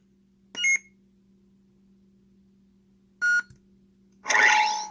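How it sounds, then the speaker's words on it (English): Two short electronic beeps from an SF Prodigy lightsaber soundboard separated by a pause, then a brighter burst of its boot sound, over near silence. "You'll hear a beep, and then you'll hear another beep followed by its boot sound."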